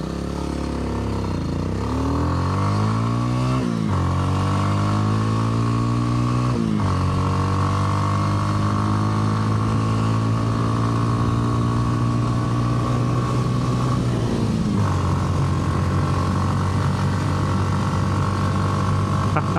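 A 2025 Kawasaki W230 single-cylinder motorcycle runs steadily, loud and close, its engine note rising through the gears with shifts and brief dips as the throttle rolls off and back on.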